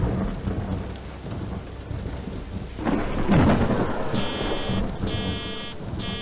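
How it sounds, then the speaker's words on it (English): Rain pours steadily in the hidden-object puzzle game Mystery Trackers: The Void, with a loud rumble of thunder rolling in midway and a few brief electronic tones near the end. "It's raining. Oh no, it's thundering."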